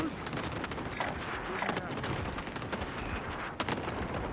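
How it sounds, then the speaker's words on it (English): Sustained exchange of gunfire in the Warzone battle royale shooter, dense crackling shots with a few sharper bursts over a constant noisy bed, with a player voice talking over the action. "Who is shooting at me?"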